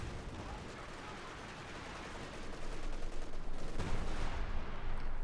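Machine-gun fire crackles through a Company of Heroes 2 battle, a steady, dense rattle of gunfire and battle noise that grows louder in the second half.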